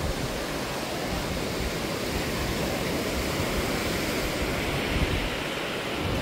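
Small sea waves washing onto a beach in Da Nang, Vietnam, a steady broadband hiss of surf with no distinct breaks, continuous and moderately loud, with possible wind on the microphone and no voices.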